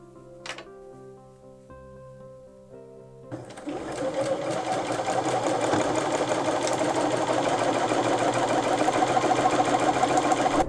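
A sewing machine stitching fabric scraps together for a Thanksgiving table runner: a brief whir near the start, then steady, fast mechanical running with a rapid needle clatter that grows louder and continues without pause, close by and unaccompanied by talk.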